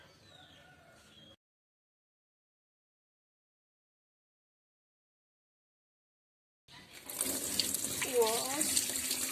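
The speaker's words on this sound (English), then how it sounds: "wash the ginger softly." Fresh ginger is rinsed under a running kitchen tap while cough medicine is being made. Silence gives way to a steady, close rush of water over the last few seconds, with a short bird-like chirp near the end.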